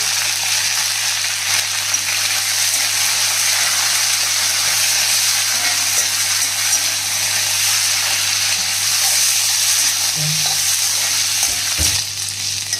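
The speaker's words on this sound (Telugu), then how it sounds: "ఇవన్నీ చక్కగా వేగిపోయినాయి" Roasted gram dal, coriander and other ingredients fry in a hot pan with a steady, close sizzle that runs unbroken throughout, with a couple of faint clinks near the end.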